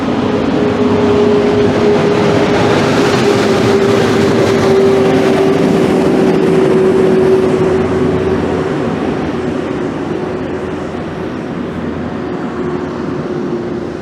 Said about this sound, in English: There goes a GO train, speeding off to suburbia.